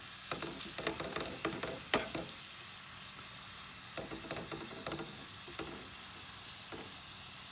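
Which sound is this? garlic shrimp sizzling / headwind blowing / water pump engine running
garlic shrimp sizzling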